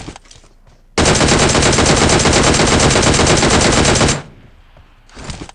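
Sustained automatic gunfire from a video game squad battle, a loud continuous burst of rapid shots lasting about three seconds, with quieter shooting before and after.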